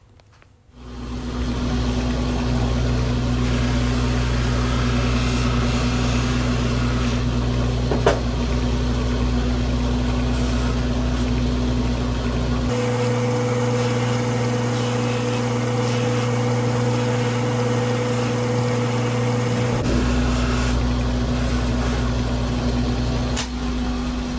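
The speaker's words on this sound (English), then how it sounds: "I found that the mouse sander works really, really well" A mouse sander runs steadily on a forged knife handle, a continuous close machine drone with a shift in pitch and pressure midway, without talk.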